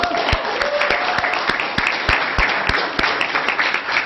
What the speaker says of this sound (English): This is where everybody now applauds